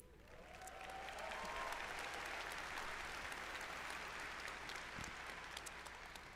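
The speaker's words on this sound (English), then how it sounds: "they pause to get applause" A large audience at BlizzCon breaks into sustained applause during a pause in a live presentation, clapping loud and dense for several seconds without fading.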